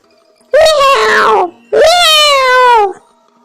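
Two long, loud yowls from a cat, each rising then falling in pitch, close by with a short pause between them.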